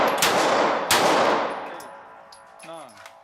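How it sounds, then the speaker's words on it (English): Two sharp handgun shots ring out close by on an outdoor range during a timed deputy marshal court security course of fire, each with a long decaying echo, followed by a short spoken phrase. "Firing 3 rounds, 2 center mass, 1 in the head, in 6 seconds."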